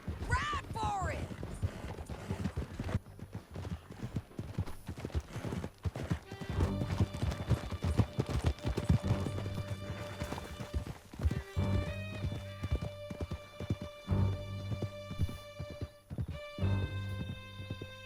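Horses galloping in the video game Red Dead Redemption 2 through a canyon, steady hoofbeats drumming beneath a musical score, with voices talking over the ride at moments.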